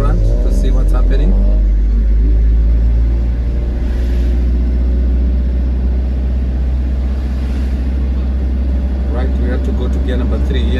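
A car engine hums and rumbles steadily and loudly up close while driving in third gear, a continuous low drone lasting throughout, with someone talking over it.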